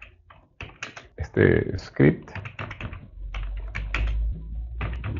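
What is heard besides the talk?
typing on a computer keyboard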